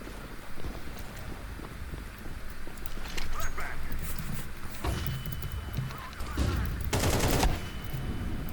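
Gunfire in the video game Counter-Strike 2: several sharp shots and short bursts ring out over steady in-game background noise, with the loudest burst near the end.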